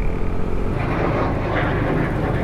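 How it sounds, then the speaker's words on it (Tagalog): A jet aircraft passes overhead on a Sunday ride near Clark, Pampanga, making a loud, steady broadband engine roar with no voices. "Jet, oh."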